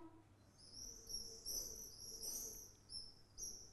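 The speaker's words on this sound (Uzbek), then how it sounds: "qaldirg'ochning sayrashini quyidagi ovozda e, tinglashimiz mumkin" Quick high-pitched twittering barn swallow song in bursts, fairly faint, with insect-like trilling beneath and no voices.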